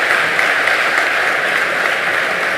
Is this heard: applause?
yes